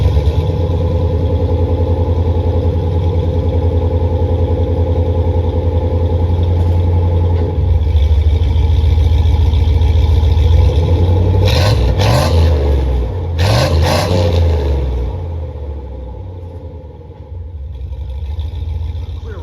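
Car engine with a 2.5-inch exhaust pipe running to an El Cheapo Super 10 muffler fitted with a dump, loud and close, steady idle rumble rising into revs around the middle, then settling back down.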